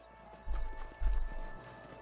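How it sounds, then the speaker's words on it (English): Horse hooves strike the ground in a couple of heavy clip-clop thuds close by in a canyon near a fort, with a quiet background between the steps. "leave the horses here and follow me"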